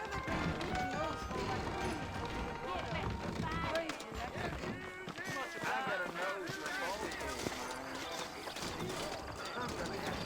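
Saddled horses' hooves clip-clop in Red Dead Redemption, a steady run of hoofbeats mixed with game noise and a possible whinny, with voices talking over much of it.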